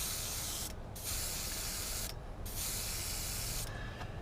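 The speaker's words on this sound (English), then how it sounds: "if you can hear the airbrush every once in a while" Continuous loud hiss of an airbrush spraying paint up close, briefly dipping in brightness three times.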